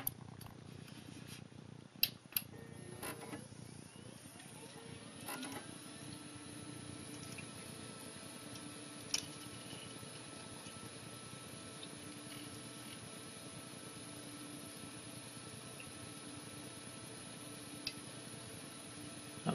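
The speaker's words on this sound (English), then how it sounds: "The pumps are still making a bit of a noise because, like I say, there's still air in it." PC watercooling pumps in an Antec 1200 case with a Q9450 and northbridge, southbridge and MOSFET blocks, running with air still in the loop, give a steady low hum with faint gurgling and occasional soft ticks.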